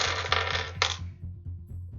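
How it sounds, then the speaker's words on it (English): Dice being taken out and handled at a tabletop role-playing session, a few bright clattering rattles up close followed by softer small clicks and taps. "He's getting out his dice."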